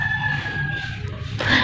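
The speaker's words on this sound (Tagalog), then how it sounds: "Dami kasing manok dito sa mga kapitbahay" A neighbour's rooster crows over a steady background of other chickens, heard from a short distance outdoors on a residential street, followed by a brief louder rustle.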